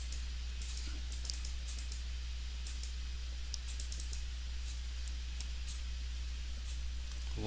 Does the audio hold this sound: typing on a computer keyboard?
yes